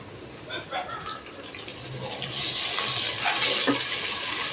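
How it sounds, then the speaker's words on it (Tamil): Onions and tomatoes for chicken biryani sauté in a pan with a soft sizzle that swells into a louder hiss partway through, over occasional stirring, with a voice speaking nearby. "நல்லா வதக்கணும்."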